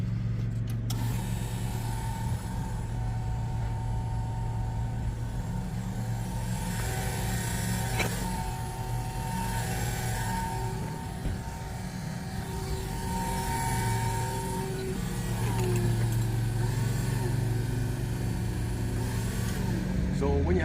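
Motor of a Niftylift 120T trailer-mounted lift running at a steady low hum and drone, rising slightly at times, while someone talks over it throughout.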